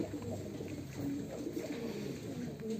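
Racing pigeons coo from an open-topped loft after training, soft repeated throaty calls from several birds overlapping in a continuous murmur, close by against a steady background hum.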